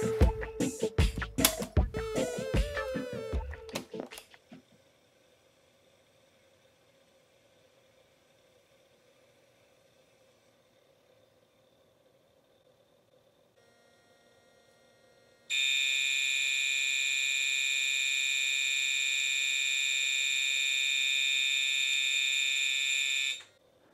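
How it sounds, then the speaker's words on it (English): A KIM-1 single-board computer's cassette data tones: a few seconds of busy chirping bursts, a long near-silent hiss, then a loud steady high-pitched multi-tone whine that holds for about eight seconds before cutting off. "What did the KIM-1 write out to tape anyway?"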